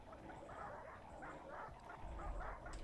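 Dogs bark and yip in the video game RimWorld, a busy overlapping chorus of small repeated calls at moderate volume with no talking.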